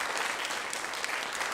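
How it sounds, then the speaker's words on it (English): An audience at a spoken word showcase claps for the grandmothers in the room: a brief, dense burst of applause from many hands, steady and fairly distant-sounding, with no talk over it. "Yes, applause for the grandmothers."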